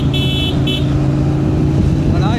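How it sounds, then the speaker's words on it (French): A car following a cycling race for 3rd and 4th category riders gives two short horn toots to warn the cyclists ahead, loud over the steady engine and road noise. "On va leur donner un petit coup de klaxon pour passer."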